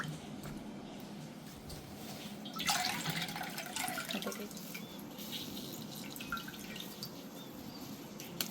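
Running cold water from a tap splashes steadily as food is rinsed, with a louder gush partway through and light drips and sloshing, close up.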